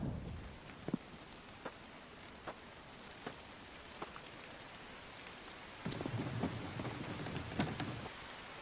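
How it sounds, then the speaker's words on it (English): Steady rain in a video game patters on surfaces with scattered heavier drops and soft low rumbles, growing denser toward the end. "So a lot of rain going on."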